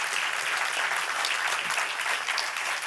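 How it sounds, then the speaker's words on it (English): Lecture audience giving sustained applause after a talk on psychedelics, a thick, even roar of many clapping hands that holds steady and loud throughout. "please give a warm welcome, a warm applause once more to Joost Breeksema."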